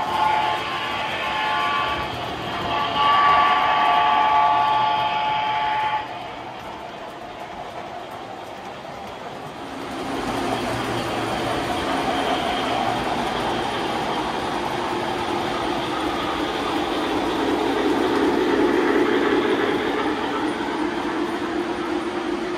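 A 3rd Rail High Iron K4 #1361 model steam locomotive runs with a soft, continuous mechanical rumble and clatter. The level shifts slightly partway through, and no voices are heard.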